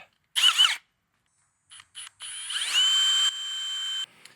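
A power drill whirs in short bursts while drilling pilot holes, then runs for a longer spin-up that winds down, loud and close with quiet gaps between.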